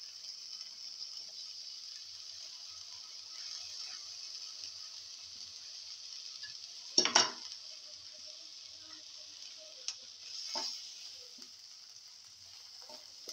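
Tomato pieces drop into a frying pan of okra, peanuts and sesame, giving a brief clatter and splash over a steady low sizzle, then a few quieter stirring scrapes as the mixture keeps frying.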